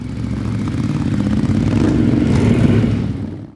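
A motorcycle ridden fast in a film scene makes a loud, continuous engine roar that builds slightly and then cuts off abruptly at the end.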